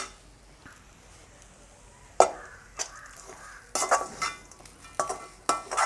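A spoon scrapes and clinks in a pan as bitter gourd sambal with tamarind is stirred, in scattered, irregular strokes, some louder and sharper than others, over a faint sizzle.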